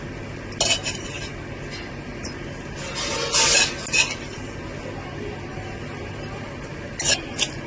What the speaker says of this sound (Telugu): ఇప్పుడు వీటిని కూడా మెత్తగా నూరుకుందామండి